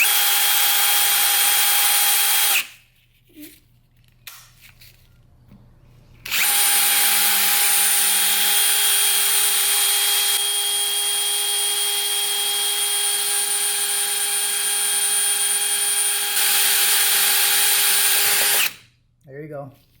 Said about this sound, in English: now we got a 60 thousandths drill bit on there, and he's just going to go real careful